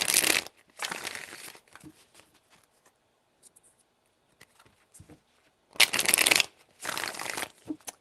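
Tarot cards shuffled in four bursts: two dense riffling rustles near the start and two more near the end, close and fairly loud, with quiet faint handling between.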